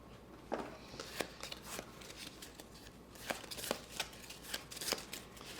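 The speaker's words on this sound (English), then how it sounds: "We'll each get a secret objective that Gavin's shuffling," Game cards for the Skyrise board game are shuffled by hand in a quiet room, giving a faint run of soft riffling bursts and snaps that come in an uneven rhythm.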